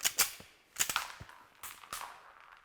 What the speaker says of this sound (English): you run the slide completely empty. Run all the way to slide lock.